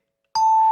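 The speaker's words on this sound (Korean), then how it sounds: "이거 뭐지? 딩동댕동이구나." A single electronic ding-dong chime rings out abruptly after a moment of silence, a clear steady tone sustained to the end.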